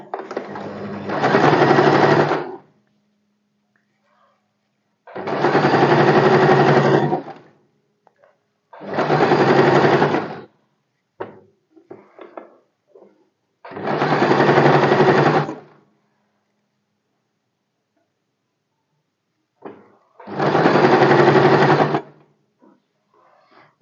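An electric sewing machine stitches a double-folded lining strip onto a lined katori blouse in five steady bursts of about two seconds each, separated by quiet pauses with faint fabric handling.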